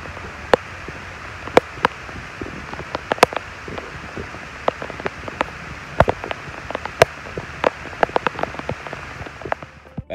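Rain from an afternoon storm in northern Alabama falling steadily on a surface, a constant soft hiss punctuated by many sharp, irregular drips and taps close by.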